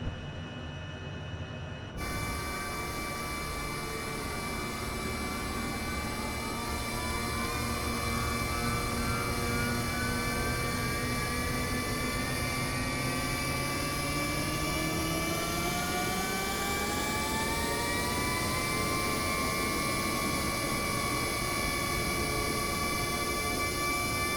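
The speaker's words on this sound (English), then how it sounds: "Starting engine number 1." A HondaJet Beyond's engine spins up in Microsoft Flight Simulator 2024, a loud steady turbine whine climbing in pitch over about twenty seconds, with layered rising tones and a constant roar beneath, no voices.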